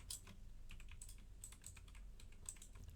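Quiet, close computer keyboard typing, a run of light irregular key clicks spread across the whole stretch, with a faint low hum beneath and no talking.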